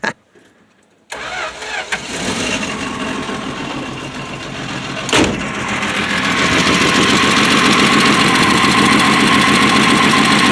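A 1965 Plymouth Valiant engine with an exhaust leak and a worn motor mount biscuit. After about a second of silence it cranks and catches, then runs loud and close with a rough, steady idle and one sharp knock around the middle.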